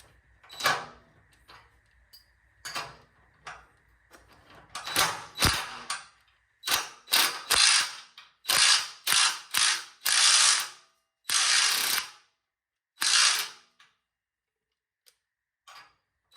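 A hand ratchet cinches down a bolt on a 1971 Dodge D100 Sweptline pickup, working in quick clicking bursts of varying length separated by short pauses, close and clear with no talking.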